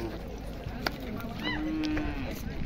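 A large bull at a horse and bull race ground in Lasalgaon gives one drawn-out moo, fairly faint and set against a constant background hum of the crowded field.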